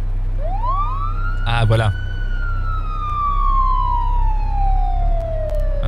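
An emergency vehicle siren in the video game Nova Life: one loud wail rises quickly, then slowly glides down in pitch and holds steady across the clip, with a brief spoken remark partway through.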